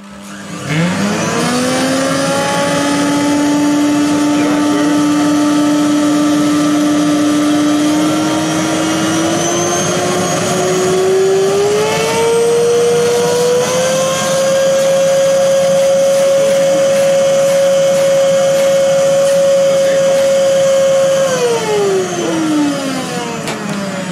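A steady, loud vacuum cleaner motor whine that rises in pitch partway through, then holds high before dropping at the end, used to suck bees out of a wall.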